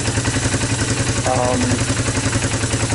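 A barn-find Yamaha Moto4 ATV fitted with a cheap clone carburetor idles a little too fast, its steady mid-pitched engine putter running close and constant with a slight clatter.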